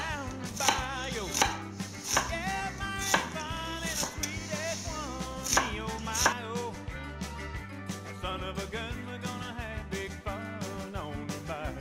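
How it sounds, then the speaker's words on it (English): A knife chops onions on a cutting board for a Sunday roast, steady rhythmic chopping strokes repeating close and loud throughout, with music playing along underneath. "So we're gonna cut the onions and get back at you."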